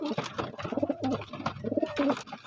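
Pigeons in a racing loft on loading day coo in repeated soft low phrases, fairly close, with a busy background of other birds and handling noise.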